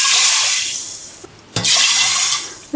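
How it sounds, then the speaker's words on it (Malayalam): Half a cup of water pours into a pressure cooker holding green gram, a steady bright splashing stream that breaks off briefly midway and then resumes at full strength, close and alone. "1/2 കപ്പ് വെള്ളം ഞാൻ ഒഴിച്ചു കൊടുത്തിട്ടുണ്ട്"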